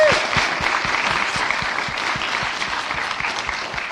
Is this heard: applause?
yes